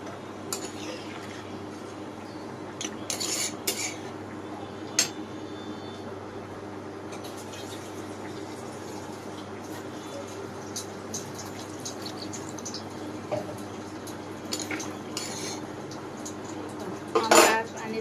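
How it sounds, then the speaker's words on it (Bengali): A spoon stirs and mixes a curry of vegetable stalks with added water in a metal pot, giving scattered scraping clinks and knocks against the pot over a low, steady kitchen background. "এ তো নেড়ে চেড়ে মিক্স করে নিচ্ছি"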